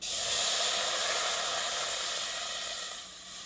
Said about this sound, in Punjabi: ਹੁਣ ਆਪਾਂ ਇਹਦੇ ਵਿੱਚ ਸਿਰਕਾ ਪਾ ਲੈਨੇ ਕੜਾਹੀ ਦੇ ਵਿੱਚ